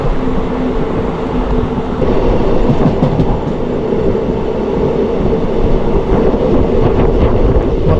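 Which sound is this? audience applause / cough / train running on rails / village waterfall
train running on rails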